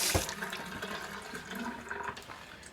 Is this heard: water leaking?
yes